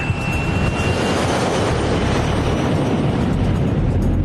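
An airliner, Scandinavian flight 751, rolls down runway 08 on takeoff, its engines a loud, steady, broadband roar that holds at full power from start to finish with no voices.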